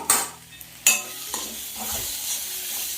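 Onions frying with ginger, garlic and turmeric for a Bengali-style egg curry, a few sharp spoon scrapes against the pan over a soft steady sizzle, close up and without talking.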